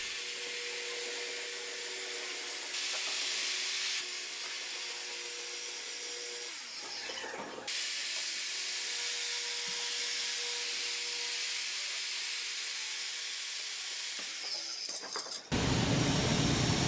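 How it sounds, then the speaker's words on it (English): A hand-held power saw cuts a wood panel for an arcade cabinet, guided along a clamped 2x4: a sustained loud whining, rasping cut that briefly drops out and ends with a change in pitch. "run your saw against it so it gets nice and straight"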